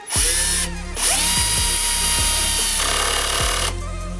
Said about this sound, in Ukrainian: Продемонструю Bosch, що може також на першій швидкості. Також заганяє.